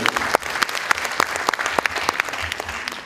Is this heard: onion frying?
no